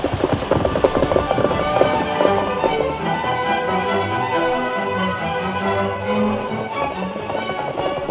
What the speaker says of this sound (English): The great horse Silver followed alongside the engine